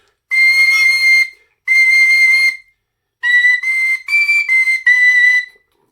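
A tin whistle plays very high, piercing notes: two long held tones, then a quick run of four short notes, each cleanly separated.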